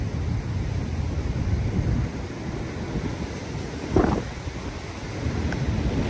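A rough monsoon sea pounds the shore in a continuous low roar of surf, with heavy wind buffeting the microphone and a brief louder surge of water near the middle.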